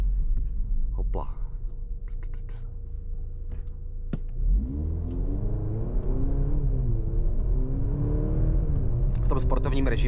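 Maserati Grecale Modena SUV in sport mode accelerating hard, its engine rising in a smooth, loud revving sweep through the gears after a quieter start, with someone talking over the growl.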